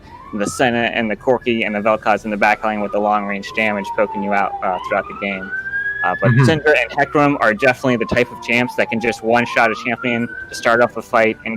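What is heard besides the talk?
police sirens in the background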